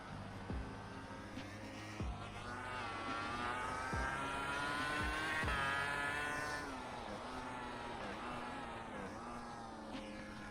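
A racing motorcycle in the GPBikes game, a MotoGP 2009 mod, screams through the revs with sharp engine pitch drops on each downshift, several quick gear changes across the stretch, steady and fairly faint.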